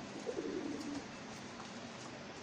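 Pankhi pigeons at a seller's place give a soft, low cooing that rises briefly and fades into faint background hiss, heard quietly with no one talking.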